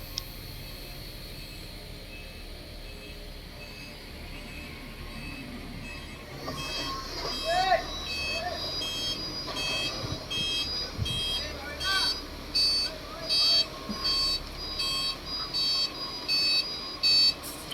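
Trucks reverse in a crowded truck parking lot in Calamba City, packed with trailer loads, giving off repeated electronic reversing beeps in short pulses over steady background rumble, with someone talking in the lot.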